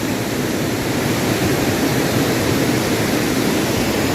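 Waterfall at Murguma Dam, a dense, unbroken roar of falling water that stays loud and even throughout, with no voices.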